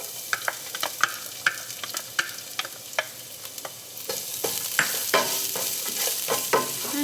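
Cumin seeds and garlic sizzle in hot oil in a pan, with a steady frying hiss that grows louder partway through, punctuated by sharp clicks and taps from stirring.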